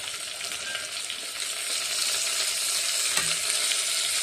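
Potato, green peas, carrot and beans for ghee vegetable pulao frying with onions in a pan: a continuous close hiss and crackle that grows slightly louder partway through, with a faint knock near the end.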